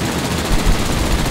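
Aircraft machine guns in World of Warplanes fire as a dense, continuous rattle, loud and close for the whole stretch, with a few heavier thumps mixed in.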